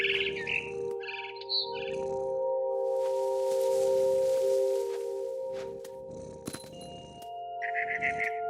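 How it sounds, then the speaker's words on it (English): A barn swallow chirps in a video game, quick bright tweets in short bursts at the start and end, over sustained background music with a soft rushing noise in the middle. "I heard chirping outside my window. It was a barn swallow going back to her nest"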